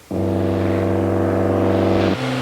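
A light aircraft engine runs up to takeoff power, a loud, close, steady tonal drone with strong harmonics that holds for about two seconds and then drops to a lower pitch.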